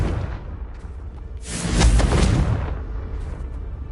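A Confringo fire spell blast in the Hogwarts Legacy video game, a single loud, rumbling burst of broad noise that swells and fades over about a second, set against quiet ambient game sound.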